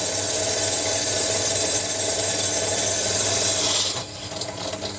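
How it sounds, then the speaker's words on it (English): A small drill press runs a pilot hole, whirring steadily and close, its motor drone holding for a few seconds before the pitch drops as the bit eases off. "this little drill press will do the job for us"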